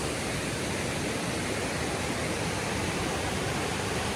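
High mountain creek in the White Mountains swollen by spring rain, rushing water roaring steadily and loud with a dense, unbroken wash close by, no voices.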